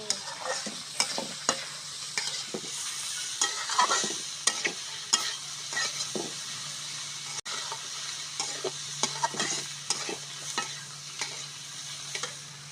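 Mustard flowers frying with egg in a pan, a steady sizzle under repeated scraping and stirring strokes of a spatula, close and moderately loud, no voices.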